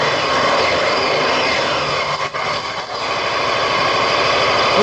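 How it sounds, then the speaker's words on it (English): A motorcycle engine idles just after starting on a very cold day, a loud, close, steady buzzing drone with a brief dip partway through. "I have the bike started."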